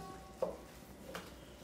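Chicken piccata with parsley stirred in a pan, a faint soft scrape and light sizzle, with a small clink of the utensil near the start, quiet and close without talk.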